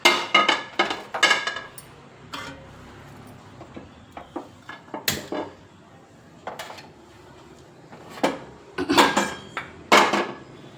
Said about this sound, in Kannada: ಒಗ್ಗರಣೆಗೆ ತವ ಇಟ್ಕೊಳ್ಳೋಣ